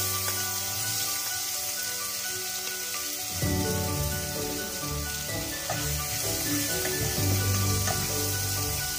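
Finely chopped onion frying lightly with garlic in a pan for dal makhani, a steady hiss and sizzle throughout, with clinking and soft background music partway in.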